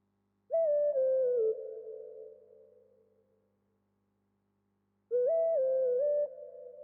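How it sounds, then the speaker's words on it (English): A synth lead melody for an Afro beat made in FL Studio plays two short phrases with a pause between them: a clean tone with pitch steps, the first phrase fading out slowly. "So I added this lead."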